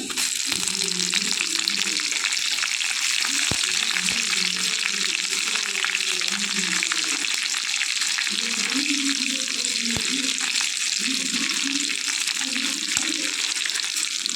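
Garlic and dried red chilies fry in hot oil for a tempering, a loud, dense, continuous crackling sizzle close up, with low murmuring underneath and occasional light clicks.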